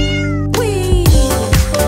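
Cat meowing loudly and close over a children's song backing, with a couple of drawn-out, wavering meows in quick succession.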